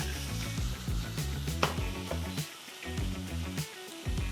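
Frozen shrimp sizzling in a hot pan over high heat alongside tomato, a steady loud frying hiss with occasional pops and light clinks close by, no talking.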